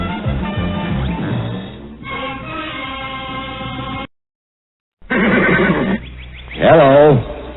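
A horse whinnies loudly twice in a recording of the Mister Ed TV theme, the calls rising and falling in pitch and separated by a brief silence, with music and other sound leading in before them.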